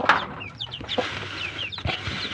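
Pet chicks in a cardboard box peep in quick, high, chirping calls, several overlapping birds close by, with scattered rustling between the peeps.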